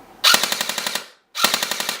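G&G MK12 airsoft rifle firing fully automatic in two rapid bursts, each a fast rattling string of about ten sharp shots, loud and close with a short pause between.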